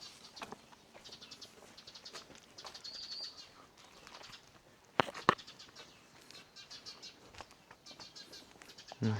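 Birds call and chirp outdoors in a quiet, rain-soaked abandoned hot-spring resort town, with scattered faint tweets, a burst of wing flapping midway and light rustling, fairly distant and without talk.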